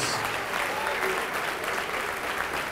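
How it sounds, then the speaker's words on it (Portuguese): A church audience at a televised service claps together in sustained, even applause, a dense wash of hands with faint voices mixed beneath. "Então vem e vamos aplaudir mais ao nome de Jesus."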